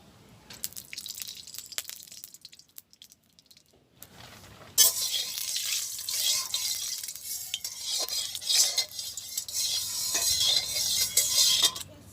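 Mustard oil heats in a wok over a village cooking stove, a faint clink and stir giving way after a few seconds to a bright, crackling sizzle that grows and stays fairly loud.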